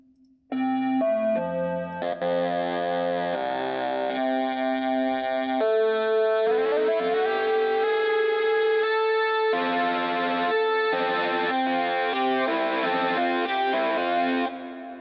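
A heavily distorted synth patch built in FL Studio's Sytrus that imitates a distorted electric guitar, playing a sustained, buzzing melodic line with bends and chorus, loud and continuous without any voices.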